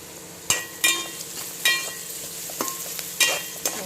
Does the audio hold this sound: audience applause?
no